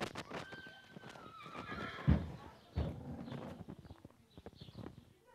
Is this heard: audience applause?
no